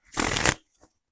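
A deck of tarot cards is shuffled in one quick, close riffle lasting about half a second, followed by a faint single card flick.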